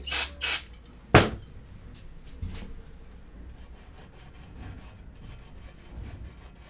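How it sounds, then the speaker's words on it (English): A green scuff pad scrubs the cylinder walls of a 4G63 engine block, with brake cleaner used to clear flash rust. A few sharp bursts open the clip, followed by a steady low scraping and rubbing close by, with no talk. "I'm gonna try green scuff pad and brake cleaner to clean it out"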